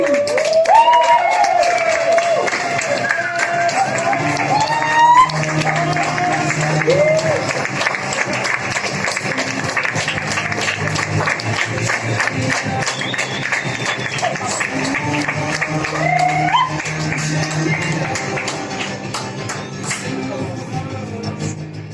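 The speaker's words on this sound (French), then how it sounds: "Et on applaudit." Audience applause at a radio event in Oran, a long rolling patter of many hands with crowd noise and scattered tonal sounds layered over it.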